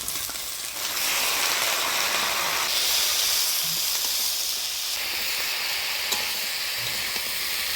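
Chopped vegetables go into a hot pan of dried fish already fried with onion, chilli and garlic, and a loud, continuous sizzle and hiss carries on steadily throughout.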